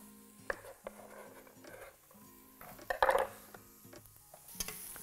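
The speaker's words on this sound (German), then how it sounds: "Ein bisschen Öl in Pfanne. Dann Knollensellerie anbraten." Diced celeriac frying in a little oil in a pan, with soft sizzling under intermittent stirring and the clatter of a utensil against the pan, including a louder scrape midway.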